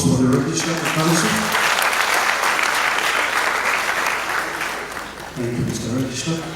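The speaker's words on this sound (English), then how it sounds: "Another round of applause for the Registrar of Council." Sustained applause from a conference audience at a regional examinations council gathering in Freetown, Sierra Leone, honoring the council's Registrar; dense clapping fills the whole stretch at steady loudness, with a voice briefly audible at the start and end.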